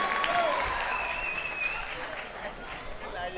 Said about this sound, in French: Applaudissements, s'il vous plaît, pour Josué.